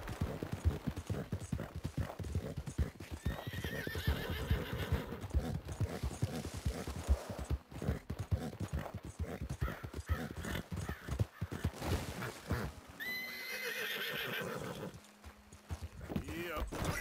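Hoofbeats clip-clop in a fast rhythm with a horse's whinny, amid busy Red Dead Redemption 2 game sound effects and talking.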